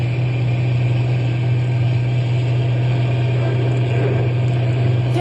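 A truck engine running hard at top speed in a radio drama, giving a loud, steady low hum with a constant rumbling roar and no pauses.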